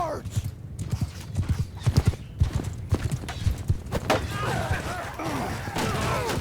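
Rapid hoofbeats from a cavalry charge in Mount & Blade II Bannerlord, a dense clatter of galloping horses with occasional whinnies and battle noise, heard under a man's speech.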